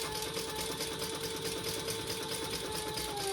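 A sewing machine runs steadily, stitching a row of variegated black, white and gray thread across a leather wallet below the first card slot, a continuous close mechanical buzz with rapid needle rhythm and no talking.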